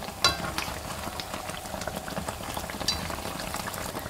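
Youtiao dough sticks, made from an egg-enriched risen dough, deep-fry in hot oil over medium-high heat, giving a steady close bubbling sizzle throughout with a few sharper crackles and no talking.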